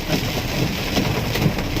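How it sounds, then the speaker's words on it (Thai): Heavy rain pours down in Salaya during a delivery run, a dense, steady hiss of drops with no pauses and no talk. "ฝนตกหนักมาก ๆ"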